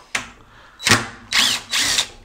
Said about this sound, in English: we'll back the wood screws out first